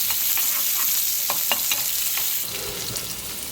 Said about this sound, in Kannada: ಸ್ವಲ್ಪ ಈರುಳ್ಳಿ ಹಾಕೋಣ, ಚೆನ್ನಾಗಿ ಫ್ರೈ ಆಗಿದೆ.